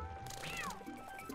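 In The Legend of Zelda: Twilight Princess HD, a cat gives a single short, rising-then-falling meow over quiet game background tones.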